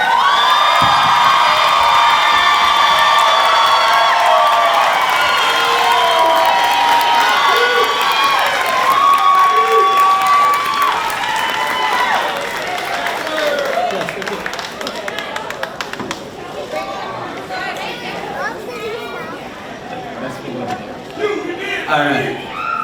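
A graduation ceremony audience cheers, whoops and shouts loudly for the new class of 2022, with bright whistles and excited voices at first, then breaking into scattered clapping and continued cheering that stays loud throughout.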